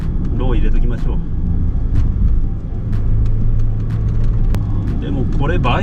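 A car descends a mountain pass on a prefectural border road with a low gear engaged for engine braking, a steady low engine drone and road rumble running throughout, with someone talking over it.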